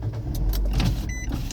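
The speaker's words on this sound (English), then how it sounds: "I had to move the car." A car is moved, its engine and road noise a loud, close, steady rumble with a brief mechanical whir partway through.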